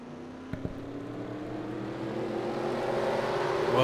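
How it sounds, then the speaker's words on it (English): Race car engines fire up in a racing video game at the Inferno Pool track, giving a low rumble that swells steadily into a louder, rising engine drone after a couple of brief clicks. "let's go ahead and get the command to fire engines for Satan's Challenge here at Inferno Pool"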